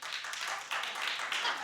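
A studio audience claps steadily throughout, a dense, even patter of many hands with no voices on top, on a talk show recapping the Billboard Music Awards.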